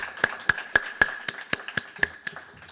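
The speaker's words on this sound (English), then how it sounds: "Let's give everyone a round of applause." Sparse applause at an ending ceremony, about a dozen distinct claps in a fairly steady rhythm, close and moderately loud, with no talking over it.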